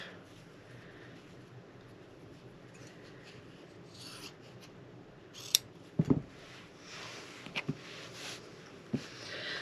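Quilting fabric pieces for flying geese blocks are trimmed with scissors: a few quiet snips and rustles, sharper cutting clicks around the middle and later, over a soft, steady room hum.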